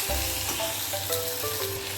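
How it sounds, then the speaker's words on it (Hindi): Raw mango pieces frying in a pan with turmeric and Kashmiri red chili powder, a loud continuous close sizzle with stirring and faint tonal clinks from the pan. "हम थोड़ा टाइम भून लेते हैं अच्छी तरह"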